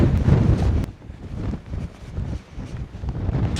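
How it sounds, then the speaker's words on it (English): Strong wind buffets the microphone in loud, rumbling gusts that swell and ease, with no voices. "It's so windy."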